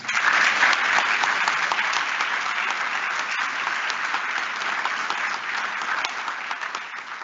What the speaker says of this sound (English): Can we just please give them a round of applause?